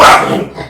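A dog gives one short, loud bark up close. It trails off quickly, with no other sound around it.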